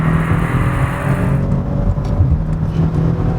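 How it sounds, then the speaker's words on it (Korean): A Maserati Ghibli S Q4 with 410 horsepower and all-wheel drive accelerates hard in manual sport mode, its engine a steady loud roar with a deep low drone that continues throughout, with no talking. "마세라티 기블리 S Q4 모델과 함께 달려보죠."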